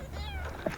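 Tiny kittens squeak and meow faintly from inside a nest, with one brief high mew rising over a soft, low background rumble.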